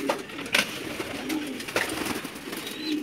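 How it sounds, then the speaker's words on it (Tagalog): Pigeons coo inside a loft holding young birds and breeders, with soft repeated throaty coos and some rustling close by, and no speech. "Ayan na nga mga kalapatids, yung mga inakay natin."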